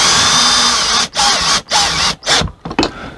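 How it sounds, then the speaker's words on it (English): A power drill driving screws back into a wall during a slide room gearbox repair, several loud close whirring bursts separated by short pauses, each ending abruptly. "It's just putting 5 screws back in the wall."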